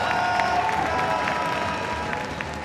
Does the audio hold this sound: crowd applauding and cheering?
yes